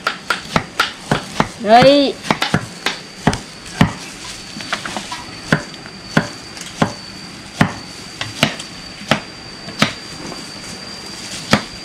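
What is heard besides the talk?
knife chopping fruit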